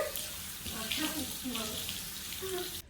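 Steady rush of tap water rinsing blue home hair dye out of hair, running continuously up close with a voice talking over it.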